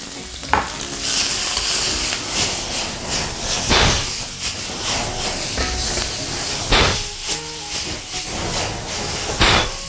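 Ginger, garlic slices, onion, scallion and dried shrimp hit hot oil in a wok and erupt into a loud, steady sizzle and hiss, with occasional scraping stirs and clanks of the spatula.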